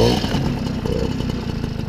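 An MBK 51 Dakota moped with an AV10 engine and a Leo Vince exhaust with the baffle removed starts up and runs with a loud, buzzing two-stroke rattle, close by.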